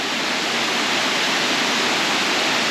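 A lagoon waterfall pours in a steady, dense roar of rushing water, close and loud, filling the whole stretch evenly with no voices over it.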